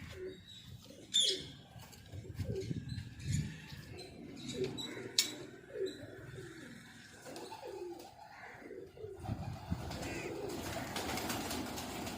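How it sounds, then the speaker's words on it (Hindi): Soft, low cooing of a large male jholay wala pigeon repeats in short rolling bursts nearby, with a few faint chirps and light rustling, ending in a louder noisy shuffle. "ये बड़ा मेन झोले वाला कबूतर आ गया जी मेरा"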